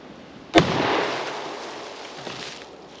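A single sharp report from a Winchester 1894 lever-action rifle in 30-30 firing a 150 grain jacketed soft point, flat point round, loud and close, with a rolling outdoor echo that decays over about two seconds.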